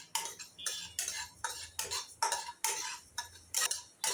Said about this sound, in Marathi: आता आपण सर्व जिन्नस टाकलेले चांगलं भाजून घेऊया